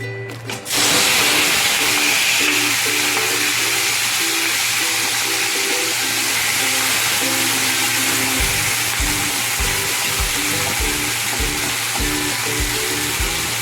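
Prawns dropped into hot oil in a wok, a sudden loud burst of hissing that settles into a dense, steady sizzle, with faint rhythmic stirring or scraping toward the end.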